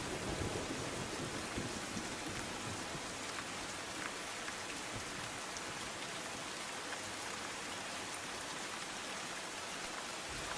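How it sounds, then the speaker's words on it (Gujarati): Torrential rain falls over a waterlogged street in Surat's Udhna area, a constant broad wash of downpour without pause, steady and enveloping with no voices. "ઉધના વિસ્તારમાં ધોધમાર વરસાદ પડતા પાણી પાણી થઈ ગયું છે"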